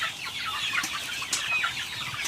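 Little chicks in a brooder at night peep in high, rapid chirps that overlap continuously at close range, with no voices.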